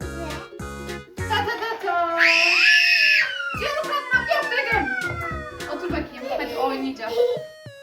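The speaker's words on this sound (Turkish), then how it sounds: "Sürekli çığlık atıyor." Young child screaming during play at home, a loud high-pitched shriek lasting about a second amid children's chatter and shouts.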